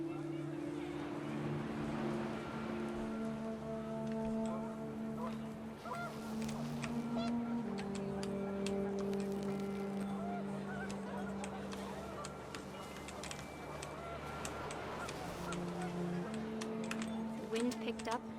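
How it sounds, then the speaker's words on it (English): Panicked geese honk repeatedly in a mix of overlapping calls, close and loud, layered with sustained tonal sounds and steady background noise from the What Remains of Edith Finch video game. "The wind picked up and panicked geese appeared and quickly went."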